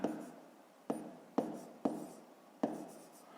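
Pen or pencil writing by hand during a fifth-grade maths exercise, with soft scratchy strokes broken by five sharp taps as the pen touches down, close and quiet, no talking.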